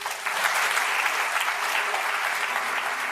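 Studio audience applause, a dense, steady wash of many hands clapping at full strength throughout, close and continuous with no voices on top.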